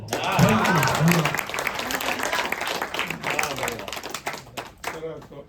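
An audience claps for a public speaker at a gathering. The dense applause rises quickly and then thins into scattered claps. A voice is audible under the clapping at the start.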